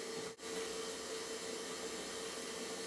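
An electric mixer beating batter for Russian tea cakes, a steady, even whirring drone with one brief dropout near the start, continuous and close, with no talking.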